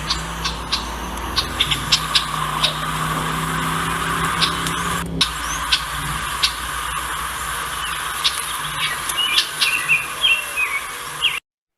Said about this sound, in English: And this one is the bird call.